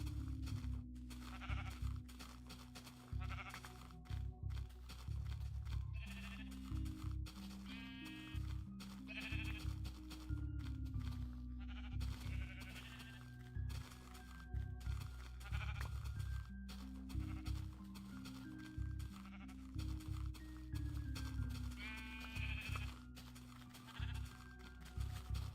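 Sheep bleating in the Minecraft Indev video game, repeated short bleats at intervals over a low droning music bed, quiet and somewhat distant.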